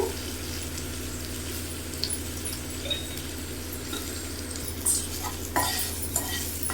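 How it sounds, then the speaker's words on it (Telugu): Green chillies sizzle and crackle in hot oil in a pan as they are stirred, for Andhra-style roasted brinjal pachi pulusu, with a steady close fry and occasional sharp utensil scrapes and clinks, no voices. "పచ్చిమిర్చి అయితే వేగినాయండి"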